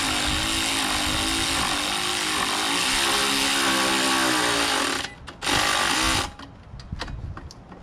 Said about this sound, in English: And I have my electric ratchet because, like I said before, I'm lazy.